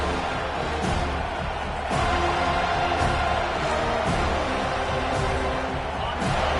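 A home crowd roars steadily through a football video game as the defense tries to get off the field on third down, a loud continuous wash with periodic swells and thumps.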